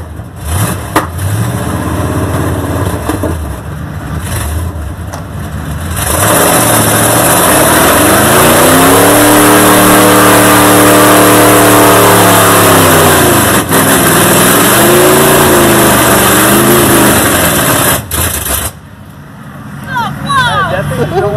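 Engine that keeps surging and revving as if starved for fuel, loud and close for most of the clip, with voices talking over it at the start and end.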